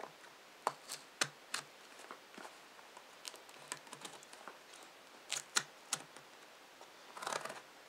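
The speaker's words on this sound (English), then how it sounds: "we're gonna use the handy knife again" A utility knife slices through the packaging of a Casio Protrek PRG-240 solar watch, a scatter of sharp, quiet clicks and scraping taps at uneven intervals, ending in a brief rustling scrape.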